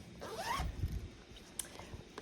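A zipper pulled open or shut in one short, quiet zip, followed by a couple of faint clicks and rustles in an otherwise hushed room.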